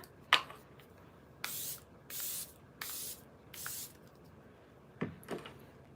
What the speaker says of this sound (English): I'm going to finish with the Charlotte Tilbury Airbrush Flawless Setting Spray